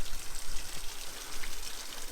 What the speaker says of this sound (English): And look at that, there's already a little waterfall.